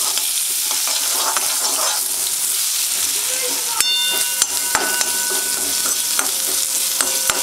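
Crushed garlic sizzles in hot oil in a pan, a steady bright hiss with occasional spoon clinks and pops that grow sharper partway through, close and continuous.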